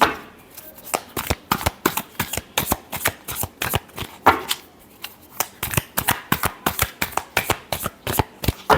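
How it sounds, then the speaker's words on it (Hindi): Tarot cards are shuffled close up, with a steady run of crisp riffling snaps and flicks, fairly loud and alone for several seconds. "Last shuffle."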